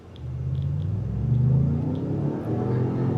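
A 2025 Ford Expedition Tremor with a V6 engine accelerates hard at full throttle, its low, steady rumble climbing in pitch and holding loud and close for the whole stretch, with no talking.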